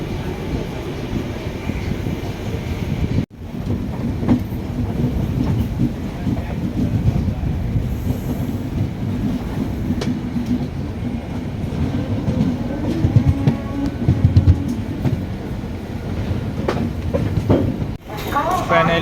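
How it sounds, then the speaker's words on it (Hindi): The Hatia Asansol Express (13514) rolls along steadily with a continuous loud rumble and faint rhythmic rail clatter, heard from inside the moving train, with a brief dip in noise partway through. "हम लोग का ट्रेन चल चुकी है।"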